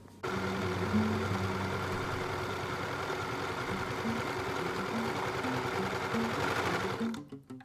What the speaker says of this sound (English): I will start on this side, sew all the way down, and then do the same on this one